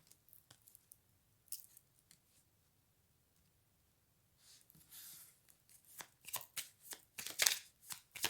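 Tarot cards are shuffled by hand, soft scattered riffles and taps at first, then a denser run of crisp flicking shuffles growing louder near the end, close and without speech.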